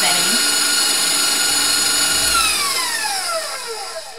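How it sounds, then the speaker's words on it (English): Electric mixer running on a medium-high setting to combine fruit pizza ingredients: a steady loud motor whine whose pitch slides downward near the end as it slows. "Throw your mixer back on until you get your ingredients nice and combined."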